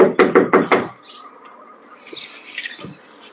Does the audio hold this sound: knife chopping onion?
no